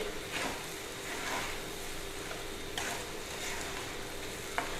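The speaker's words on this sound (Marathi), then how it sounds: "आता मी याला हलवून घेते" A spatula sweeps through sago khichdi with crushed peanuts in a hot pan with a soft sizzle underneath, strokes repeating every second or so, close and fairly quiet.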